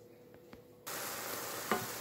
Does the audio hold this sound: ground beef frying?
yes